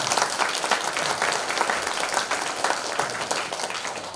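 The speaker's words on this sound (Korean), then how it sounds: "박수 한번 쳐주세요" A church congregation applauds returning evangelism team members, dense steady clapping from many hands filling the room for the whole stretch, fairly loud and without pause.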